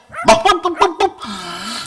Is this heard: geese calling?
no